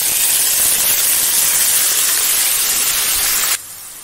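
Onion paste hits hot ghee with cumin seeds and chilies in a pan for Punjabi rajma masala, giving a loud, steady, close hiss that drops sharply to a quieter sizzle near the end.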